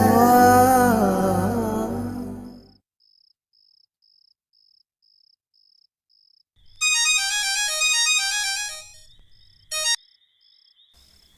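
A phone ringtone sounds for an incoming call, a melodic tone sequence that starts after a stretch of music and near silence, then cuts off abruptly, with a steady faint beeping tone underneath.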